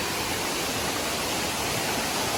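A waterfall pours in a steady broadband rush, dense and constant with no breaks, heard close and loud on its own.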